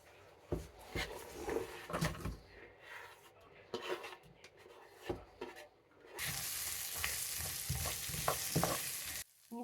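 Onion frying in a pan for imam bayildi, a soft clatter of stirring at first, then a steady bright sizzle rising for the last few seconds, faint and close.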